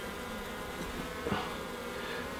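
Honeybees buzz steadily at an open hive, a close, continuous droning hum with no voices.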